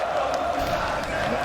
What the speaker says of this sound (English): Is the cheering all too much?